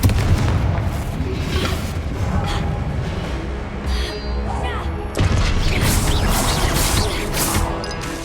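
Confringo fire blast spells in the video game Hogwarts Legacy, repeated heavy booming explosions and crashing impacts in quick succession amid loud combat noise, with a voice calling out spell names.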